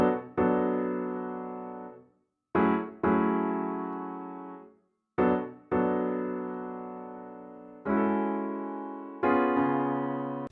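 Lush electric-piano style keys sample in a hip-hop beat, pitched down three semitones, playing sustained chords in four phrases separated by short gaps, clear and alone.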